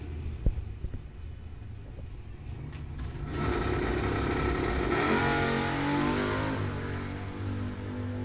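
A Camaro drag car launches down the strip at Coles County Dragway during bracket racing, its engine building from a distant idle into a loud sustained roar that carries for several seconds.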